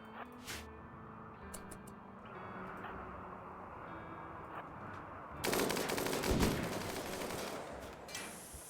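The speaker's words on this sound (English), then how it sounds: "Minigun is actually really good for clearing these just because of the range and the sheer volume of" Sustained minigun fire in the video game RimWorld, a dense broadband burst starting midway and continuing steadily to the end over a quieter game backdrop.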